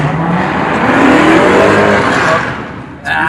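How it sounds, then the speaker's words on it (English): A Mopar Hemi muscle car at a show, its engine revving in a loud rising pass that swells over a couple of seconds and then fades, with faint background chatter. "That's a Mopar right there. Hemi."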